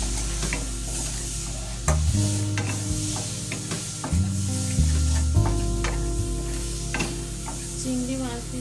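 Prawns frying in spiced masala, a close, loud continuous sizzle with rhythmic stirring scrapes and a low background hum throughout, with no voices.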